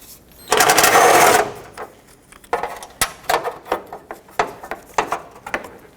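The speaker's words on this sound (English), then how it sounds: "I'm going to take off the 2 radiator support brackets with a 10mm socket, remove the bolt." A 10mm socket ratchet loosens a radiator support bracket bolt on a 2005-2010 Pontiac G6, starting with a loud whirring burst and followed by a series of sharp, close ratcheting clicks.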